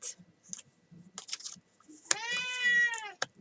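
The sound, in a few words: cat meowing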